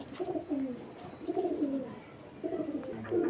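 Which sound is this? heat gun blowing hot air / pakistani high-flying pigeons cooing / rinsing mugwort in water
pakistani high-flying pigeons cooing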